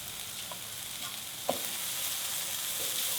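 Garlic and onion frying in rendered bacon fat in a pan over medium-high heat, giving a steady close sizzle with a brief clatter as they hit the pan partway through.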